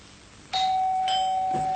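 An electronic doorbell chimes, its tone ringing on and sustaining, with a couple of softer chime notes following in an otherwise quiet room.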